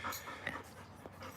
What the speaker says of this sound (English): dog wants to play fetch